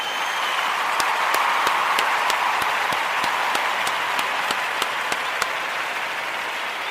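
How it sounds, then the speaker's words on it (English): Steady applause from a crowd fills the whole stretch, with a few sharp, evenly spaced claps standing out above the dense clapping. "I want to give all of the Ujamaa babies a round of applause."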